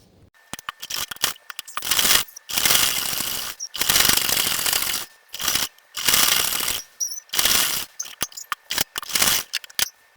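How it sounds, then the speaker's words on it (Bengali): A sewing machine runs double stitching along the side seam of a 53-inch burqa, its loud mechanical rattle coming in several sustained bursts separated by short pauses, with no voices. "তো এইভাবে ডাবল সেলাই দিব, দিয়ে এই পর্যন্ত নিয়ে আসবো।"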